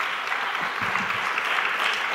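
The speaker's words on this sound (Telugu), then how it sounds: "చప్పట్లు కొట్టి దేవుని స్తుతిద్దాం" Applause rises from a congregation clapping in praise of God, a sustained, even patter of many hands held at a steady moderate level from start to finish.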